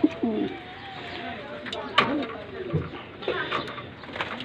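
Pigeons from a personal breeder's loft, including checkered and blue bar birds, give soft repeated cooing calls, several overlapping bursts at close range with a faint voice now and then.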